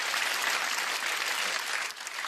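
A cabaret audience breaks into dense, even applause that fills the whole short moment without any voices, fading slightly toward the end.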